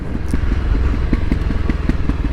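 A Voge 300 Rally motorcycle with a 15-tooth front sprocket engine brakes up close, making a loud, steady rumble with a fast, even pulsing beat.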